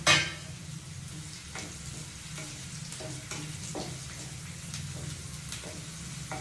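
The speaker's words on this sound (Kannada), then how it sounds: "ಸೊ ಆನಿಯನ್ಸ್ ಎಲ್ಲ ಚೆನ್ನಾಗಿ ಫ್ರೈ ಆಗಿದೆ" Onions and curry leaves frying in a pan over a lowered flame give a steady close sizzle, broken by several scraping stirs and light spoon knocks, with no talking.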